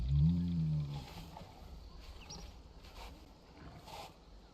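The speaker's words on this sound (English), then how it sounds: "See the lions and" A lion in the video game Prehistoric Kingdom lets out one deep, close roar at the start, which fades into quiet ambient background noise with faint distant sounds.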